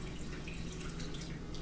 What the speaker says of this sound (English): basically you just fill it up until you get to the top